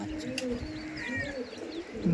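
A young hen pigeon from an old bloodline coos in low, drawn-out throaty notes close by, with faint chirps and sparse background sound around it.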